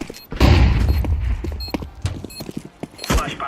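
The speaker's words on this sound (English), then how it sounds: "Throwing flashbang." A flashbang grenade thrown and going off in a video game, a sharp loud burst early on followed by scattered clattering and crackling impacts, with a second hit near the end.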